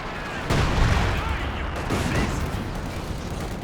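Heavy mortar fire in Company of Heroes 2 during a 3v3 battle on the Ettelbruck station map: a loud, close booming impact opens the clip, followed by a rolling rumble and a second, duller hit.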